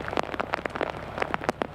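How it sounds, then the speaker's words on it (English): Pouring rain in a residential neighbourhood where front yards are flooding into ponds patters steadily, with dense, irregular drops and splashes striking surfaces up close over a soft wet hiss. "The sound of pouring rain turning front yards into ponds woke up Robert Batskill of Wheatland."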